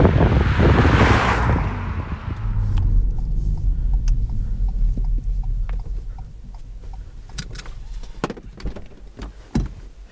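A Ford Focus ST estate or Skoda Octavia RS estate in normal drive mode: a broad, steady roar of exhaust, road and wind noise, loudest at the start and easing slightly, with no talking.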